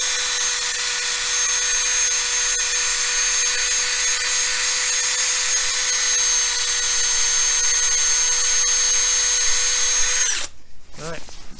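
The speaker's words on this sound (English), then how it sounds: "I get my drill, I very gently put the chuck on the threads." A cordless drill spins a scotch pad soaked in brake cleaner against wheel-hub threads on a Citroen Berlingo or Peugeot Partner during a front brake job, giving a steady close whine for about ten seconds before it stops and a voice follows.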